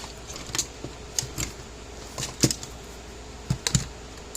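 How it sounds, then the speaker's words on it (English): A Zapper Zap 8 electric fence charger ticks with sharp, faint clicks at uneven intervals over a low steady hum, heard close up. "Yeah, hear it clicking, which is a good sign."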